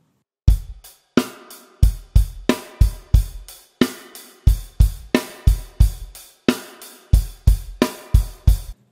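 A drum kit plays a rock groove variation, with an extra bass drum on the four-and. The steady, punchy kick and snare hits repeat evenly for about nine seconds, close and loud with no voices.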